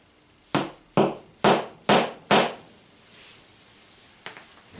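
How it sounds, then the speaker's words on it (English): A hammer drives a nail into a wooden board to peg out a fox skin for tanning: five sharp, close strikes in quick, even succession, then a softer tap and a faint knock. "Put your nail in place, press down"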